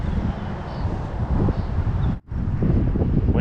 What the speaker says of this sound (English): See how the wind is blowing this way.